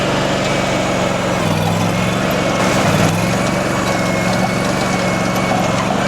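A Boxer 320 mini skid steer runs steadily in two-speed mode, its small engine holding a loud, continuous drone with a slight dip in pitch partway through, and no talking over it.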